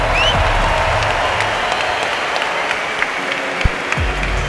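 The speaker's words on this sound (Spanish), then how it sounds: "un fuerte aplauso a todos los que habéis venido a presenciar un evento como el de hoy" A huge arena crowd at a boxing event applauds and cheers in a loud, continuous roar of clapping, with a few whistles rising above the wash.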